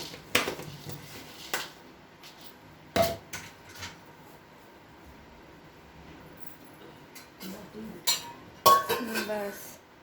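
Puffed rice being mixed with onion fritters (piyaji) and crispy fried gram flour bits in a bowl, giving scattered rustling scrapes and sharp clinks of utensil against the bowl, with a few louder knocks near the start and end.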